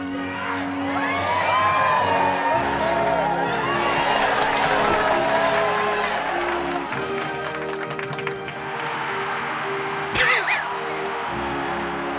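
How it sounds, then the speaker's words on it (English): Crowd cheering from the Plumbers Don't Wear Ties video game, a loud, continuous mix of whoops, shouts and applause, with a brief sharp burst near the end. "They were a little late on the cheering."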